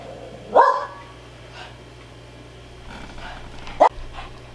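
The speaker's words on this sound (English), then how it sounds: "dog got a little excited, too" A grandmother's dog gives two short excited barks indoors, one early and one near the end, moderately loud over a low steady hum, with quiet gaps between them.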